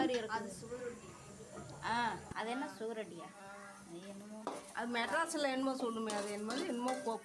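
A utensil clatters and scrapes in a pan as blood fry is stirred with grated coconut, with intermittent metallic knocks that sit under near-continuous talking.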